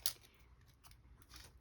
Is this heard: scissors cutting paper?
yes